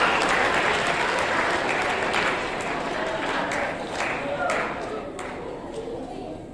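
Audience applause at a school's 7th grade awards ceremony, a dense, steady burst of many hands clapping that fades slightly toward the end, with faint crowd murmur underneath.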